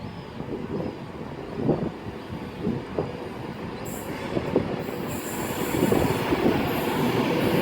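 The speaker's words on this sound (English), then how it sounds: "departing, hopefully now, is going to be the 1449 Virgin Pendolino service to London Euston" A Virgin Pendolino electric train pulls out of Carlisle station on the West Coast Main Line, its steady rolling rumble building with rhythmic wheel clicks and a brief high squeal, while strong wind blows across the platform.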